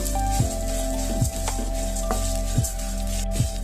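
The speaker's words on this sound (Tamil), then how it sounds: "இப்போ இந்த அவளையுமே நல்லா வறுத்து எடுத்துக்குவோம்." Red poha (flattened rice) roasting in ghee for aval payasam sizzles steadily up close, with a few sharp scraping stirs of a spoon across the pan at irregular intervals.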